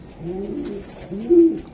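Racing pigeons in a club loft give two close, low, rolling coos, the second louder and ending in a sustained note, with no talk over them.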